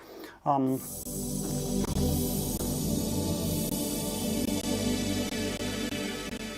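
A sustained, rich synthesizer pad swells in after a brief tonal blip, its dense harmonic texture slowly shifting as it holds steady.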